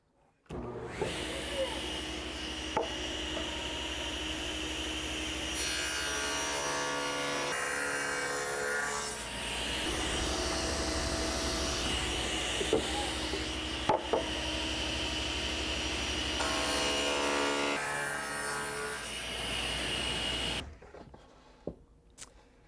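A power tool cutting a rabbet in wood in two passes while building a table saw fence, a loud continuous whining cut with two long sustained bursts separated by a brief shift in tone, ending in quiet.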